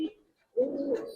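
Giribaz pigeons coo as they are let go, a brief low burst followed by a strong, sustained warbling coo close by, with a faint high chirp over it.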